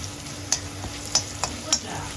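Crushed garlic, about five cloves, sautéing in hot oil for masala puffed rice, with a steady low sizzle broken by three or four sharp stirring scrapes against the pan, close and alone.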